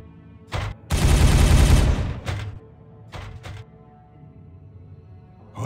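Sustained bursts of automatic gunfire from Warhammer 40K Regicide, several loud volleys with a long dense barrage in the middle and shorter bursts around it, heavy and close.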